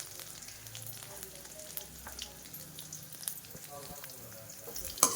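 Finely chopped garlic frying in oil over a low flame after mustard seeds have spluttered, a soft steady sizzle with faint crackles and a few utensil taps near the end.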